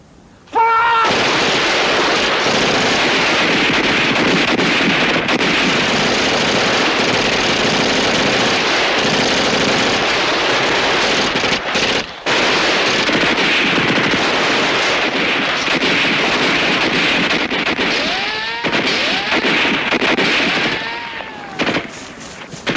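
Sustained bursts of machine gun fire and rifle shots from a war TV episode, loud and dense for most of the stretch with rapid rattling volleys, a short pause midway, and a few whistling, descending tones near the end.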